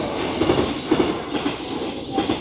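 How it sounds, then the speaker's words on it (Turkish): A train rolls past nearby with rhythmic clickety-clack of wheels over rail joints and a steady rumble. "Ya buradan da çok tren geçiyor."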